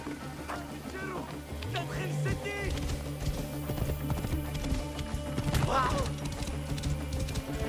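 Horse hooves clip-clopping in Assassin's Creed Origins, a rapid rhythmic patter under game music, with a brief whinny and a voice talking over it.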